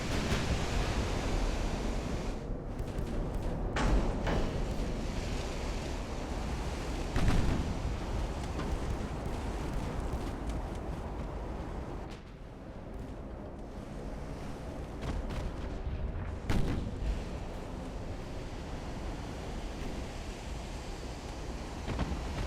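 Naval artillery booms out at sea in Ultimate Admiral: Dreadnoughts, a few heavy thuds spaced through a steady roar of ocean surf and wind, with no voices.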